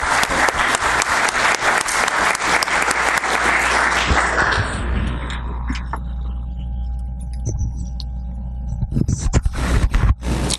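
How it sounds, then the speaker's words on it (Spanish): A loud burst of applause from an audience fills the room, then fades out over a few seconds into quiet with scattered faint claps and noise. "lo recibimos con un fuerte aplauso"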